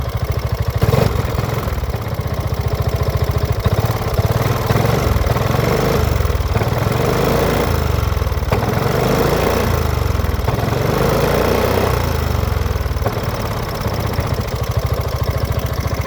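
A Piaggio MP3 500 HPE Sport (2020) scooter engine with stock exhaust and baffle idling and revving in rising and falling surges, a throaty buzzing hum that stays close and continuous.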